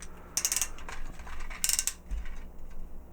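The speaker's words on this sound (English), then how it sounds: "the ratchets aren't the tightest either" Ratchet joints on a Transformers Ironhide figure being moved, bursts of quick plastic clicks in short rapid runs, close and crisp against a quiet background.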